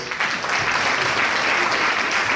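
Loud, dense applause from a celebration audience at the 25th anniversary of the Arkansas Martin Luther King, Jr. Commission, a brief continuous roar of clapping.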